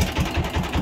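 A fishing trawler's engine throbs at the mouth of the sea near Dubla Island, a low pulsing chug repeating evenly about every fifth of a second, close and steady as the boat sets off.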